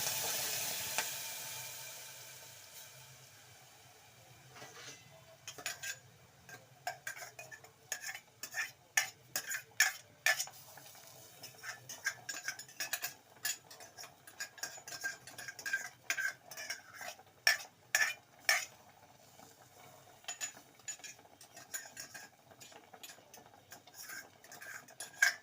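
Spoon stirring tomato chutney in a pan after the tempering is added, heard as repeated sharp metallic clinks and scrapes against the pan in an irregular rhythm, close and fairly loud, with a faint sizzle beneath and no talk.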